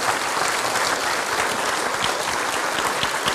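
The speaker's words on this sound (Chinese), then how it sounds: "掌声欢迎陈老师上台" Audience applause welcoming a teacher onto the stage at a book launch and Buddhist dharma forum, a steady, dense wash of clapping from a sizable crowd throughout, with no voices over it.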